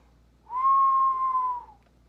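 A single sustained whistle, steady in pitch and clear, holding for about a second before fading, voiced by someone imitating an eerie tone.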